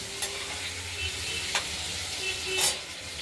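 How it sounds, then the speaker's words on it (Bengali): Potatoes sizzle steadily in a hot pan, with a few sharp scraping clicks from stirring breaking through the constant hiss. "আলুগুলো ভাজা করে নিই"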